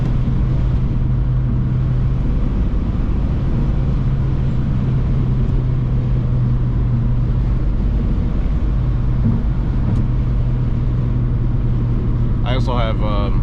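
Steady low road roar inside a moving Mazdaspeed 6, constant tire and cabin drone filling the whole stretch, with someone talking over it.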